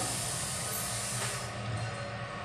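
Hot oil tempering (phodni) sizzling for barnyard millet rice in a fasting meal, a continuous broad hiss that holds steady and close throughout.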